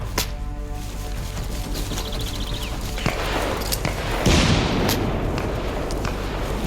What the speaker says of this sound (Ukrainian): І ззаду стріляють.